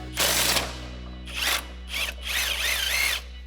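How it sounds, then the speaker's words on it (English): An impact wrench with an 18mm socket, swivel adapter and extension zips loose a front shock bolt on a RAM 1500 during a Bilstein B8 6112 leveling kit install, several loud bursts of hammering whirr close up, the last one longer. "We're first going to try to get this off with our 18mm socket and swivel adapter with an extension on our impact"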